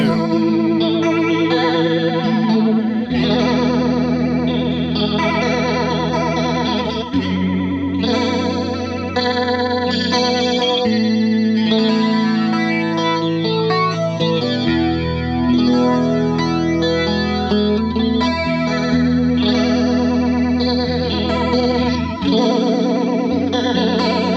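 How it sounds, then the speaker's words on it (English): Electric guitar through a PRS flanger pedal, the whoosh alternating between a fast warble and a slower, broader sweep, played continuously and loud with no talking. "we've got a fast flange here and a slower one"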